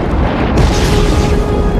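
Explosions in the video game Just Cause 3 form a dense, loud rumbling roar that sustains without pause, with booming bursts merging into one another and no voices over them.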